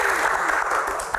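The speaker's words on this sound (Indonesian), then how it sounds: "tepuk tangan dong" An audience at an Indonesian Q&A talk show applauds with a brief, dense burst of clapping, fairly close and continuous throughout.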